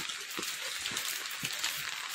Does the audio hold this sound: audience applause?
no